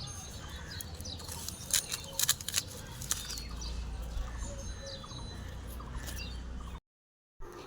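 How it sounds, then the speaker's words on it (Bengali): Several kinds of birds chirp in the morning, with scattered short tweets and calls over a faint outdoor hush, some bursts brief and bright, others soft and distant. "বন্ধুরা তোমরা শুনতে পেলে কত রকমের পাখির কিচিরমিচির ডাক"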